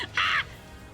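A single loud, harsh crow caw just outside a window, one short rasping call standing out over a low background hum.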